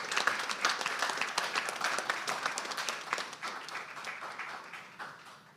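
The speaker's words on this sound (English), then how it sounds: "Please, a round of applause." A burst of applause from a room full of people at a technical conference session, steady clapping that gradually thins and fades toward the end.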